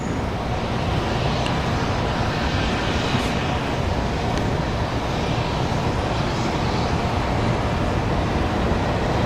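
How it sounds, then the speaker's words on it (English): A KLM Airbus A330 airliner at Washington Dulles airport gives off a continuous broad roar of jet engine noise, steady and unbroken throughout. "KLM, that A330"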